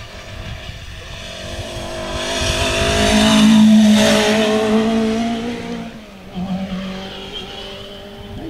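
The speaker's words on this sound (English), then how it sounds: "The rear wheel drive car's having a bit of an easier time up this hill." A rear-wheel-drive historic rally car climbs a hill on a stage of the Border Counties rally. Its engine revs loudly and swells as it draws close, dips, then picks up again with a strained, rising drone. No voices are heard.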